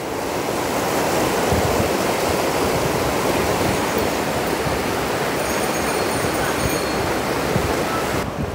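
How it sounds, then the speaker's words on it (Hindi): The fast-flowing Ganges River at Haridwar makes a dense, steady rush of water, loud and continuous like heavy surf, with no pauses. "जल का बहाव काफ़ी तेज़ नज़र आ रहा है।"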